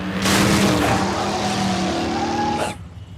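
A cartoon supercar roars through the jungle, engine note climbing and shifting with tire squeal, loud and close, before cutting off abruptly near the end.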